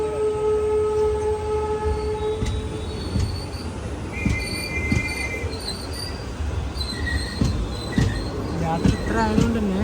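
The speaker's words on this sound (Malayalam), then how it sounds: "ഇത് ഷൊർണൂരിൽ നിന്ന് നിലമ്പൂരിലേക്കുള്ള അവസാന ട്രെയിനാണ്" Passenger train on the Shoranur to Nilambur line standing at a station at night, with wheels squealing, rumbling carriages and a brief horn, steady and fairly loud with a few voices in the background.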